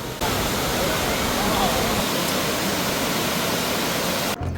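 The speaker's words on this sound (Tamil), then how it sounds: "வளைச்சல் ஃபால்ஸ் போகிற பாதையிலேயே இந்த சார்பா வாட்டர் ஃபால்ஸ் இருக்குது." Charpa waterfall on the Chalakudy river in Kerala roars with a dense, continuous rush of water that stays loud and even, cutting off abruptly at the end.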